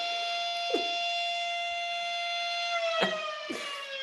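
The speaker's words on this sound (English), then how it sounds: "Fire sirens." A steady wailing fire siren holds a sustained tone throughout, with its pitch sliding slightly near the end and a few faint bumps underneath.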